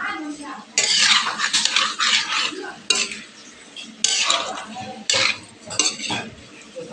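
Ginger-garlic paste with cumin and garam masala powder is stirred in a hot pan, with loud repeated bursts of metal scraping and clinking and a light sizzle between strokes.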